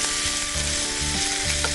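A filling of chopped olives, jalapeño and cheese sizzles in a hot pan as it is stirred, with a bright steady frying hiss and a few soft scraping strokes, no voices.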